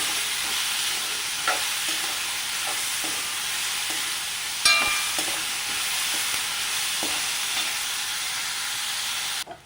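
Finely chopped onions frying in a pan for a curry served with chapati: a steady, bright sizzle and hiss throughout, with occasional soft clicks of stirring and one sharper clatter midway, no voices.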